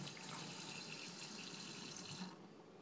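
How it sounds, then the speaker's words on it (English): Water rushes steadily from a new kitchen faucet into a sink, a soft continuous hiss that cuts off near the end, with no talking. "Put the faucet on, and I press here."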